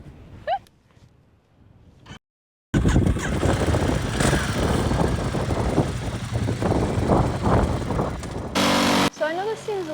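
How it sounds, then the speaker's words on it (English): A Ducati XDiavel with a 1260cc engine starts up and rumbles loudly in the mountains after a short quiet moment with faint voices, its engine steady and throaty before a sudden cut and a brief bright tone at the end. "let's fire this thing up and see how these 1260cc engine and the Pirelli tires do in the mountains"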